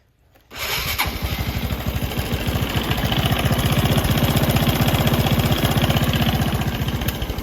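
A Honda Wave 125R motorcycle engine with a loud fault on the magneto side starts up and runs loudly close by, with a rough, rapid, chugging rattle that stays steady throughout.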